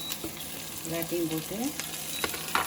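Chopped onion, green chili and curry leaves frying in a pan, with a soft steady sizzle and a few light clinks of stirring, while someone speaks briefly over it.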